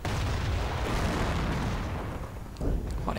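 Artillery fire in a World War II strategy video game, a dense continuous rumble of booming impacts and explosions with a fresh burst near the end, loud and close.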